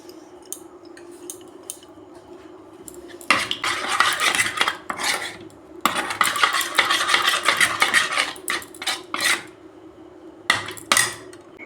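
Egg batter with tomato sauce and soy sauce being mixed in a bowl, with bursts of rapid metal-on-bowl whisking and clinking, loud and close, separated by short quieter pauses.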